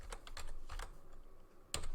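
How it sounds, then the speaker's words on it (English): A password is typed on a computer keyboard as a few quiet, close key clicks in irregular bursts, ending with a sharper final keystroke. "I'm going to type my password"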